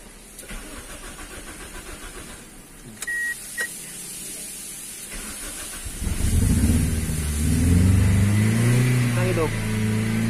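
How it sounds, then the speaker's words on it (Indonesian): A 2003 Toyota Altis engine cranks and fires into a steady idle after a few beeps and clicks, close up and fairly loud, with people talking nearby. "Mesinnya menyala."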